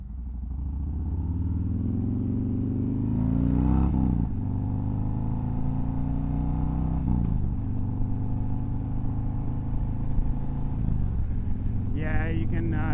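A Chevrolet car engine runs steadily with a deep throbbing rumble and rises in pitch as it is revved a couple of times, loud and close, while someone talks briefly near the end.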